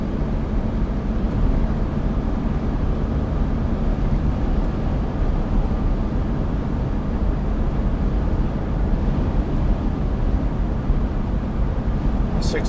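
2012 Smart Fortwo Coupe Passion mhd Softouch cruising at around 60 mph on a windy day, a steady broadband roar of road and wind noise inside the cabin, constant and unbroken.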